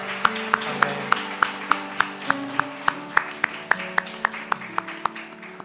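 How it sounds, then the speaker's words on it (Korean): A church congregation at a Wednesday worship service claps together in a steady, even rhythm, about sixteen sharp claps in unison over sustained keyboard chords. "우리 그 기대와 소망을 담아서 하나님께 감사의 박수 함께 올려드리겠습니다."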